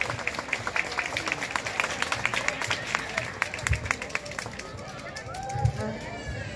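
A crowd applauds primary school children after their classical dance at a village festival: brisk, scattered clapping over the first few seconds, then thinning, with people talking throughout.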